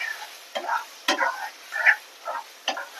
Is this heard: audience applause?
no